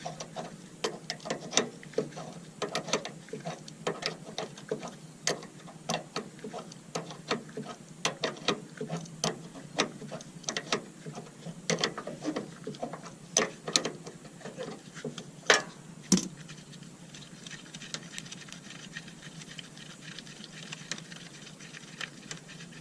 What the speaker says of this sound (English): Now I'm going to use a crescent wrench and take the fuel filter out.